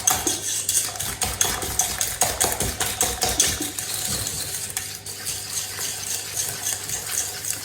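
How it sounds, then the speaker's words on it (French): A utensil whisking cake batter in a bowl until foamy, rapid rhythmic metallic clicks and scrapes against the dish, close and clear, easing slightly toward the end. "on mélange que ça devienne mousseux"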